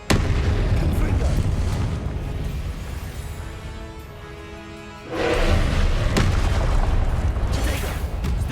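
A Confringo blasting spell explodes in Hogwarts Legacy with a loud, booming burst followed by a rumbling tail, heavy and close, amid continuous game noise and some talk.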